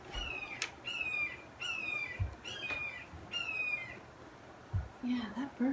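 An unidentified bird squawks outdoors in repeated harsh calls, several spaced bursts over quiet background, with faint low sounds between and a brief soft voice near the end.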